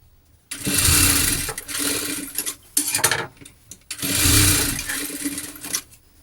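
A sewing machine stitches the shoulder seam of a lined top in two sustained whirring runs with brief stops and short bursts between them, close and fairly loud.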